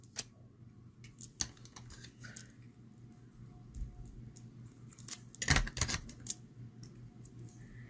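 Card stock being cut with scissors while making a Christmas card, a series of sharp close snips and clicks in irregular bursts over a quiet background hum, no talk.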